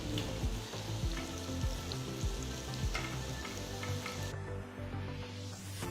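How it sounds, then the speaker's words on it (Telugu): Coated okra pieces deep fry in hot oil with a loud, bubbling crackle, and a few scrapes of stirring sound up close throughout. "నూనె వేడెక్కిన తర్వాత ఇందులో కోట్ చేసిన బెండకాయ ముక్కలు వేసి గోల్డెన్ బ్రౌన్ రంగులోకి మారేంత వరకు వేయించాలి"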